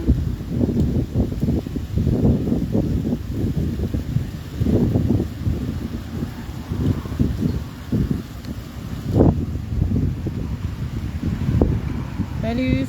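Strong outdoor wind buffets the microphone in heavy, uneven gusts and low rumbling thumps while someone speaks French underneath.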